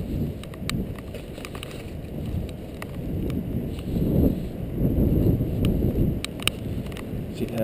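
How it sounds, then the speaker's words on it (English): Steady low rumbling wind buffeting the microphone at an RC model airfield, loud and continuous, with a few faint clicks scattered on top. "Wind's up a little bit."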